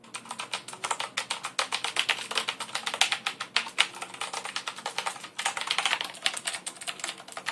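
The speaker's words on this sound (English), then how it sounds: "Let's do a sound test right here." Rapid, continuous typing on a Rosewill RK-9000I mechanical keyboard with Cherry MX Blue switches, each keystroke a crisp, close clack in a busy, uneven stream with no talking.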